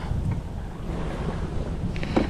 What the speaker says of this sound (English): We got some wind on us today.